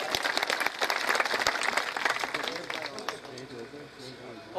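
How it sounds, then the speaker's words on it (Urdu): Audience applause for a guest invited up to the stage at a gathering, dense clapping that starts strong and gradually thins and fades, with voices talking over it. "ان کے لیے بھرپور تالیاں جی"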